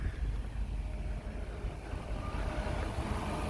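A neglected Audi A6 C6 with the 4.2 engine idles after a Sea Foam treatment, giving a steady low rumble with a faint wash of noise above it. The level stays even and there is no talking.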